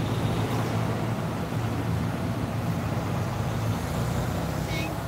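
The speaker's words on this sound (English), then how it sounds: "Okay, 1 minute while the truck goes by." On a mountain road a truck rumbles past, a continuous low engine and tyre drone holding steady and fairly close throughout.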